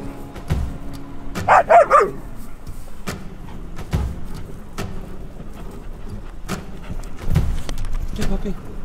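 A dog barks a few short times in the mid distance on a horse ranch, with low thumps and faint outdoor background noise around it.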